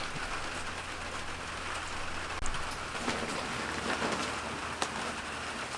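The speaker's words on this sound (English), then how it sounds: "It's pouring down rain and those two girls are just standing out in the rain." Heavy rain pours down steadily outdoors near a house, a dense continuous hiss with a few brief louder spatters, moderately loud and unbroken, with no voices.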